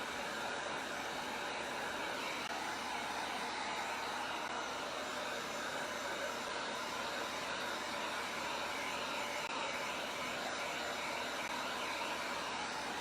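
A handheld hair dryer blows steadily over a DIY wooden sign, giving a constant loud, close whooshing rush that holds unchanged for the whole stretch with no talking.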